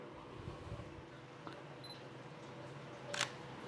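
A camera shutter clicks once while a portrait headshot is taken indoors with Godox flash lighting, a faint click over a continuous room hum and low background noise.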